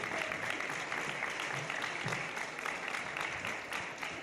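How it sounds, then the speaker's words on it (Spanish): A hall full of people applauding at a school eighth-grade graduation ceremony, dense steady clapping that holds evenly for the whole stretch, moderately distant, with no speech over it. "Un fuerte aplauso para ellas."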